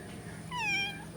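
A kitten gives a single short, fairly clear meow at close range over a quiet background.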